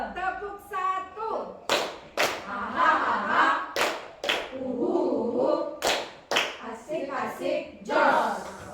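A group at a teacher training session claps along in a patterned routine, sharp separate claps in uneven bursts between stretches of talk and laughter, fairly close.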